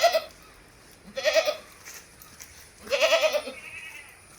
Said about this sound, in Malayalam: ചെറിയ പൈസക്ക് ചെറിയ ആട്.